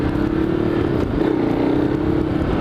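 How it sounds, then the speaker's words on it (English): Ducati Hyperstrada motorcycle at idle getting a quick throttle blip, a loud close engine drone with the pitch rising and dipping once, no voices. "if I blip the throttle when it's idle, it hesitates"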